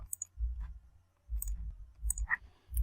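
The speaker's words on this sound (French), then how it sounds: "Je viens sur la travée, je clique également." Crisp computer mouse clicks while working in CYPECAD software, coming in small paired bursts at close range against a quiet background.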